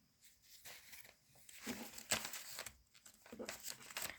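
Close, quiet crinkling and tearing of a thin plastic packet, coming in uneven bursts with short pauses between pulls.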